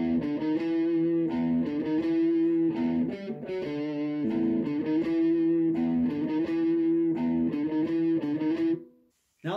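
Distorted electric guitar plays an opening riff, a steady run of sustained, heavily overdriven notes repeated in phrases for about nine seconds before cutting off abruptly near the end.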